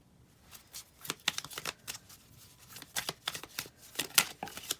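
Cards being shuffled by hand, a quick run of soft riffling flutters and snaps in irregular bursts, quiet and close with no talk.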